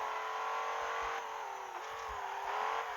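A modified BMW M5 engine revs hard in the racing game Assoluto Racing, a loud, sustained high-pitched whine climbing and dipping slightly with gear changes, with no voices over it.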